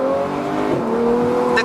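A Ferrari F12 Berlinetta's V12, fitted with a valved exhaust and running with the valves closed, holds a steady, smooth, tonal engine note close by, a mild rise near the end, with no voices.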